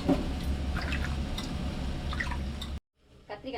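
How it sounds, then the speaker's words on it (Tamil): Tamarind water strained through a strainer in a kitchen, soft close dripping and trickling liquid with small splashes under a voice speaking throughout, then a brief pause and a few faint drips. "கரைச்சி இதே மாதிரி வடிகட்டி வச்சுக்கிறேன்"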